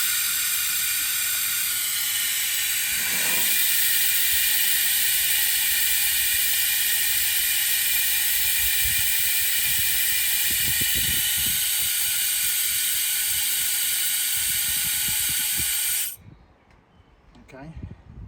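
Compressed air hisses loudly and steadily beneath a schist slab during a friction test, with faint knocks and shuffles underneath, before the hiss cuts off abruptly near the end.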